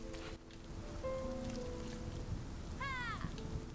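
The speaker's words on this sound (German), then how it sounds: "es regnet ohne Ende" Steady rain falls in the fantasy video game RiME, a soft continuous hiss that sits under quiet game tones and a brief chirping sound.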